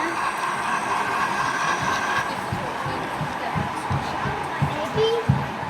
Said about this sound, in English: I want to look at the train.